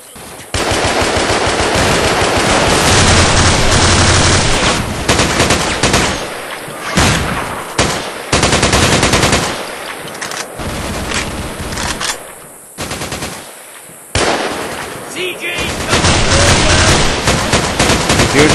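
Sustained machine gun covering fire in the Vietnam War PC shooter Vietcong, loud and close, with long rattling bursts broken by brief pauses and overlapping gunfire.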